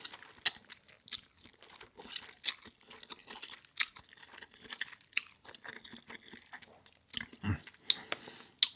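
Someone eats noodles with seaweed crisp up close, with irregular crunchy bites and wet chewing sounds that are soft to moderate, spread across the stretch, and a sharper burst of crunching near the end.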